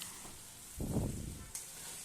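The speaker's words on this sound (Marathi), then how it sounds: "एक दोन मिनटासाठी मस्त असं परतून घ्यायचं सगळं कोबी आणि शिमला मिरची" Cabbage and bell pepper being stir-fried for noodles in a pan, giving a short burst of sizzling and stirring near the middle, with quieter frying around it and no talk.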